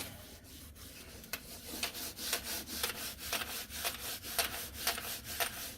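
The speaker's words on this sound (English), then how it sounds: "That would take a lot of scrubbing on that metal part." A pad scrubs the metal part of an oven in quick, rhythmic back-and-forth strokes, a soft, steady scraping close by with no talk.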